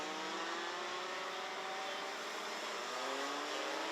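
Race cars on a karting circuit drive through a series of turns, their engines a steady, faint, high-pitched buzz with slowly gliding pitch, heard from a distance without any talking.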